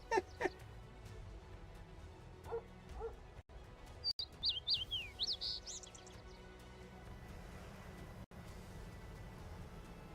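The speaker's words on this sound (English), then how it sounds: "there's birds chirping" Birds chirp around a house in a short burst of bright, quick tweets midway through, fairly faint and distant against a low background murmur.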